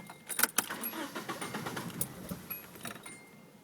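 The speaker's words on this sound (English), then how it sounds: "Now I want to try to start my car." A car engine cranks repeatedly without catching, its intake tube disconnected, giving a rapid whirring churn close to the microphone with a few sharp clicks at the start.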